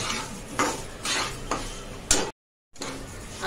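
Lapsi stirred and fried in a pan, rhythmic scraping strokes of a spoon against the metal with a light sizzle, a few sharper clinks, and a brief cut to silence before the stirring resumes.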